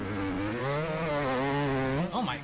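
A two-stroke dirt bike engine in the MX Bikes racing game holds a steady buzzing drone that rises slightly in pitch, then drops off sharply near the end.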